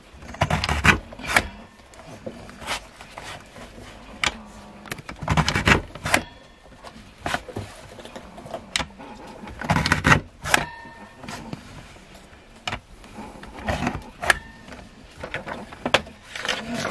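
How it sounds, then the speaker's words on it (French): A We R Memory Keepers alignment guide punches through paper, making a series of sharp, irregular clicks and clunks that are loud and close, with no talking. "Et il suffit de perforer comme ceci. Vous entendez, il y a un clic à chaque fois."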